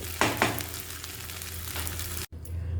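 Tomato rice is stirred in a pan on a stove, giving a steady, close sizzling with scraping stir strokes, a brief cut near the end, then continued sizzling.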